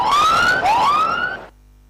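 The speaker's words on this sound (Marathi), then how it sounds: "इथे सायरन वाजवलं गेले" A siren sounds at a cricket match, two loud rising wails, the second following right after the first, then it cuts off abruptly.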